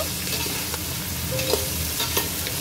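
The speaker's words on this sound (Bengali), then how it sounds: "সব দিয়ে এবার ভালো করে একটু নাড়িয়ে নেব।" Winter vegetables for pulao are stirred in a hot pan, a close, steady sizzling crackle broken by a few light scrapes and clinks of the spatula; nobody speaks.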